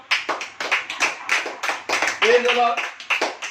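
A church congregation clapping hands in rhythmic bursts, a steady series of roughly a dozen loud group claps with voices calling out between and over them.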